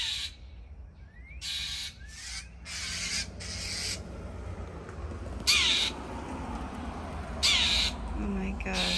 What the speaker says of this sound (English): Oh my God. Bird.